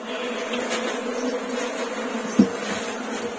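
Honeybees buzz in a steady, dense drone around fresh combs at a mountain hive, close and continuous with a couple of faint knocks.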